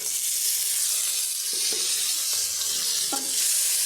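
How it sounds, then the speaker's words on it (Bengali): Potato pieces fry in hot mustard oil with a steady, loud sizzling hiss, broken by a few soft stirring scrapes near the end. "এই আলুটা ভালো করে ভেজে নেব"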